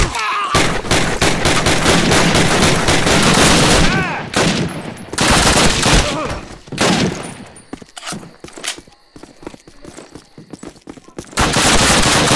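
Loud, dense bursts of automatic gunfire from the Call of Duty video game, rapid volleys filling the first four seconds, then scattered shots and a renewed burst near the end.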